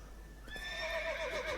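Horse Roach from The Witcher 3 whinnies in a rising, quavering neigh that follows a brief lead-in, loud and close, with no talk over it.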